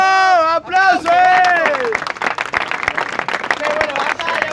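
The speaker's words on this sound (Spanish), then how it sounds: "¡Aplausos!" Audience applause and cheering at a freestyle rap battle, following a shouted voice at the start, then a dense, steady wash of clapping that carries loudly through the rest.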